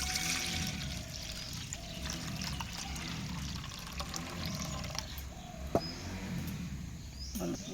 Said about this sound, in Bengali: দেশি চাল তো একটু ভালো করে ধুতে হবে, কারণ এর গায়ে তো অনেক কুড়ো থাকে।